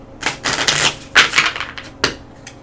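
A Dark Souls card game deck being shuffled by hand, with several quick riffling bursts of card flutter, close and fairly loud, separated by short pauses.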